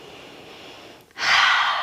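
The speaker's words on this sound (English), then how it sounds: "Exhale here." A single audible exhale during a power vinyasa yoga practice, close and breathy: a soft airy breath, a brief pause, then a louder, stronger rush of air.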